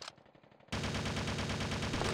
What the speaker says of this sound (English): Look out, someone's shooting at you.